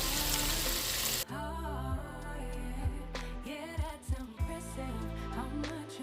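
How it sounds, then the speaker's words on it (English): Shrimp sizzle and crackle steadily as they fry in a hot pan at 350 degrees, with a melodic tune playing over the frying. "so we go fry these at 350 degrees, roughly 4 to 5 minutes"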